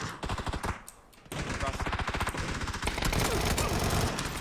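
Rapid automatic gunfire in PUBG fires in loud, dense bursts after a short pause, near and continuous to the end.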